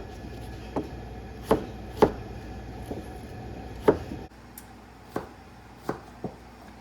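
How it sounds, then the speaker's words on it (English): A knife chopping potatoes into chunks for a potato salad, with about nine sharp, separate hits in an irregular rhythm, close and clear over a quiet background. "So we're just gonna chop up our potatoes into a potato salad shape."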